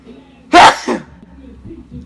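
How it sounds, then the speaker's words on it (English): A single loud, close sneeze with a sharp burst and a short second gasp, standing alone before quiet room tone. "hold on, y'all gotta sneeze."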